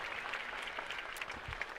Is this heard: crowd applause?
yes